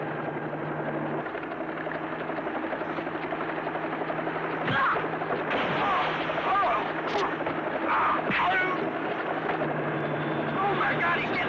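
A helicopter drones steadily in the background throughout, its low chopping rotor noise continuing under voices talking.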